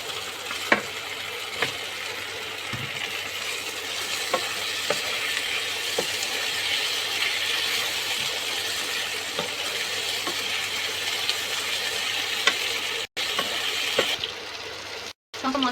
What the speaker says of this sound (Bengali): এখন আমি টমেটো কুচি দিয়ে দেব।